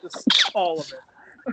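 A single sharp sneeze bursts out mid-conversation, close and brief, framed by people talking casually just before and after.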